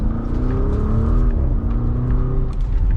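A 2024 Porsche Cayenne S with an all-wheel-drive V8 pulls hard while merging, a loud continuous engine roar with rising harmonics and steady road rumble heard from inside the cabin.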